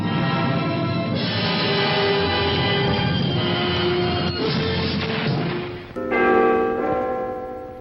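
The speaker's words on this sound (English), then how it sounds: "a special warning bell has been installed to protect the faint-hearted" A special warning bell clangs loudly and continuously, a dense metallic ringing that shifts to a brighter, sharper peal near the end, with no talking.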